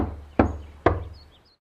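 Two firm knocks on a door, spaced about half a second apart, each a close, sharp rap that rings briefly before fading into quiet.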